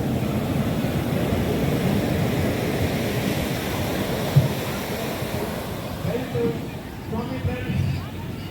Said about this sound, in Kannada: ರಾತ್ರಿ ಹೊತ್ತು ದೊಡ್ಡ ದೊಡ್ಡ ಅಲೆ